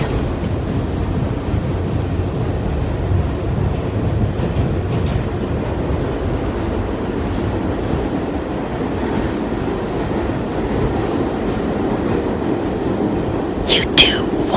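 A New York subway train running from Queens toward SoHo on a Monday morning fills the car with steady low rumbling and rattling, with a soft voice over it and a brief metallic squeal near the end.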